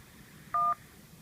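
A single telephone keypad DTMF tone for the 1 key, pressed on a school automated phone messaging line, short and clear against a faint line hiss.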